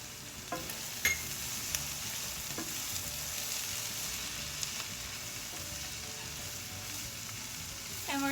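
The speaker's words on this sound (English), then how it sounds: "we're going to stir this together until it is smooth" A spoon stirs flour into tender potatoes and carrots in a pot for homemade chicken pot pie, giving a steady soft scraping and sizzling hiss with a few light clinks against the pot, close and continuous without any talk.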